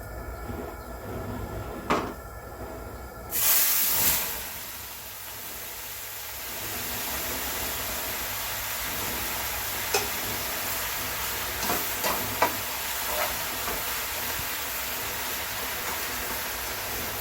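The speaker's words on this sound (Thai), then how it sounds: "เราผัด ผัดแค่ให้ผักมันสลบพอ" Continuous loud sizzling of water spinach stir-fried over high heat in a wok fills the scene after a sharp clatter, with occasional scraping and tapping of a utensil against the pan.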